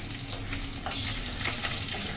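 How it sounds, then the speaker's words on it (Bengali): Catla fish pieces fry in mustard oil with a steady, close sizzle and scattered pops and crackles, and no talking. "এইভাবে আমি সবগুলো মাছ ভেজে নেব"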